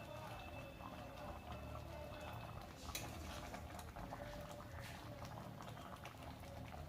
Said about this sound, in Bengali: আরও কিছুক্ষণ আমি ফুটিয়ে নেব।